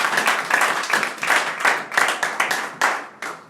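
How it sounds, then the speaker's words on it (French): Church congregation clapping together in a quick, uneven rhythm, with distinct bursts of hand claps close by and brief gaps between them. "Est-ce que tu peux applaudir pour le Seigneur de gloire?"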